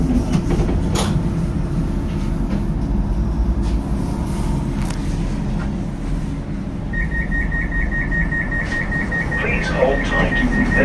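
A West Midlands Metro tram on the Edgbaston Village to Wolverhampton Station line hums loudly from inside, a steady low rumble with a repeating electronic beeping tone near the end as it prepares to move off.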